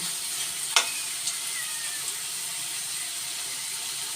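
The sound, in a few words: sautéing patola with ground meat in a pan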